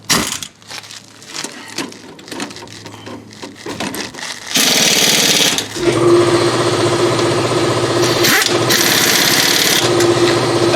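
A small impact gun snugs the front brake bolts on a 2010 Nissan Altima, beginning with a few short rattling bursts and then buzzing loudly and steadily up close.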